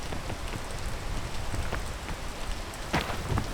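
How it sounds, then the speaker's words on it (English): Steady rain downpour in the climbing video game PEAK, a dense, constant hiss of falling drops with a few louder patters and splashes, alone and moderately loud. "there's a constant random downpour"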